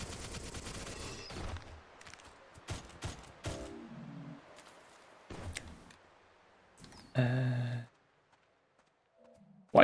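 A bone needler-style weapon fires in GZDoom's MOHRTA, with scattered sharp shots and short bursts separated by quiet gaps, then a louder sustained burst and a few faint blips.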